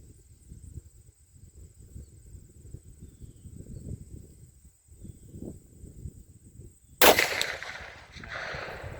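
A single loud report from a CVA single-shot rifle chambered in .450 Bushmaster, fired on a 100-yard range, cracks sharply near the end after a stretch of low rumbling handling noise, then decays into a brief tail.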